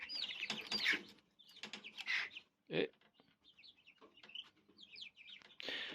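Hens cluck in short bursts at close range with brief pauses between, fairly quiet overall, with a single word spoken once among them.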